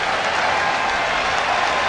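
A Philadelphia baseball crowd at a St. Louis at Philadelphia ballgame stands and cheers, a dense, steady wash of applause and crowd roar that stays loud and unbroken throughout.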